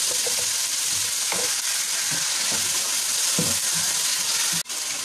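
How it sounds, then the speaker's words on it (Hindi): Garlic ginger paste frying in a cup of oil on a stove, a close, steady crackling sizzle with scattered pops and occasional stirring scrapes. "अब हम अच्छे से फ्राई करेंगे।"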